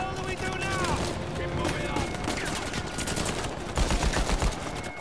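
Blind-fire gunshots in Uncharted 4 ring out as dense bursts of rapid gunfire over a continuous busy game soundscape, with the heaviest cluster of shots near the end.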